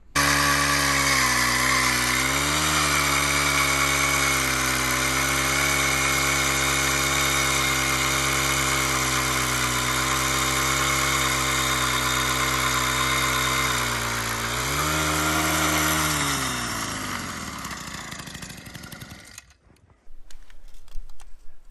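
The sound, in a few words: power drill boring a hole in lake ice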